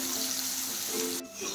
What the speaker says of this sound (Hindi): अब हम इसमें कटे हुए आलू डाल देंगे, इसको भी अच्छे से फ्राई कर लेंगे ब्राउन होने तक।